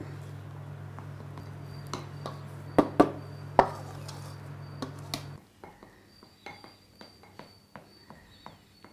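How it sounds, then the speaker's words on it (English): A spatula cuts and folds chocolate cupcake batter in a bowl, producing soft, irregular close knocks and scrapes with a few louder taps over a low hum that stops partway, and no talking. "I am going to mix this by adding little by little use a spatula and cut and fold method."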